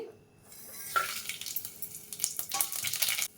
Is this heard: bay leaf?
yes